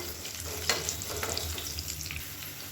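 Chopped garlic cloves fry in a pan as they start to turn golden, giving a steady close sizzle with a few light stirring scrapes and no voices.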